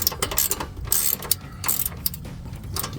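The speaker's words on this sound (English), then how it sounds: "So I'm going to start with my speed wrench here" A speed wrench ratchets a bolt snug while fitting running boards to a Silverado 1500 pickup, rapid metallic clicks in quick uneven bursts, close and alone.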